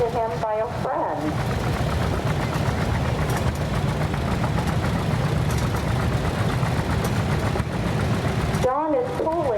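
A 1953 Farmall Super 8 tractor rumbles steadily at a low, rough idle during an antique tractor parade, with voices heard faintly at the start and end.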